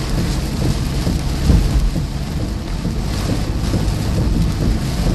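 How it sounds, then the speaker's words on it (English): Heavy rain from a severe storm in Iowa pours steadily in a dense, constant roar, with low rumbles of thunder rolling underneath. "we've got some pretty heavy rain on the ground right now"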